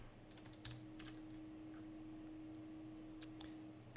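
Quick bursts of clicks from a computer keyboard typing into a Windows search box, close and clear over a faint steady electrical hum.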